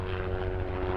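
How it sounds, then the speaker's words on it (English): A low-flying aircraft, a plane or helicopter, drones overhead with a steady, loud propeller hum that fills the whole moment without pause. "excuse the plane, or the helicopter"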